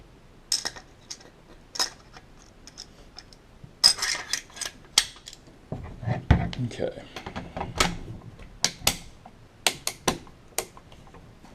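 A 9mm AR rifle with a broken bolt catch being worked: sharp metallic clicks and clacks of the bolt and catch at close range, spaced irregularly, with someone speaking between them.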